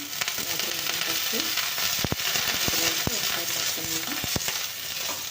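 Dosa batter sizzles on a hot pan, a dense close crackle with several sharp taps and scrapes from a spatula over the steady frying hiss.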